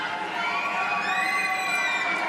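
Home fans cheer and shout continuously through a wheelchair curling match between Great Britain and Italy in Milano, a steady dense crowd roar with high whoops rising near the end.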